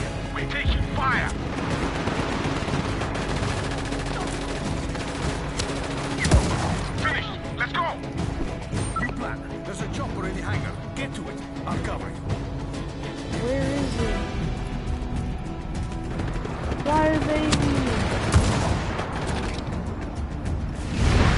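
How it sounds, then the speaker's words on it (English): Video game gunfire rattles in bursts and scattered shots over a steady, busy game soundscape, with a player talking throughout. "We're taking fire."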